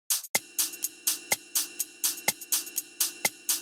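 Ride cymbal in an electronic drum track rings in a regular pattern, its bright washy strikes overlapping a sustained tone, with sharper accented hits every second or so and no voices.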